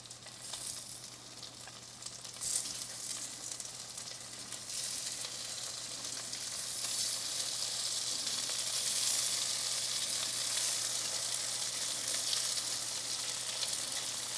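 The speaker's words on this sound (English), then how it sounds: "got our skillet preheated, nice little sizzle there" Steady, hissing sizzle of food pan frying in a preheated skillet, continuous and close, growing slightly louder and denser as it goes on, with no talking.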